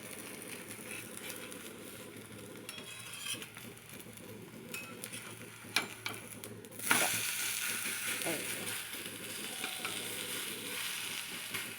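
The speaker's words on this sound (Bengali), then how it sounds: "এই যে উপর থেকে একটু পেঁয়াজ দিয়ে দেব, সাইড থেকে একটু তেল দেব" Onion frying in oil for a breakfast dish, a steady close sizzle with a loud burst of fresh hissing midway as more oil hits the pan, with occasional clinks of a utensil.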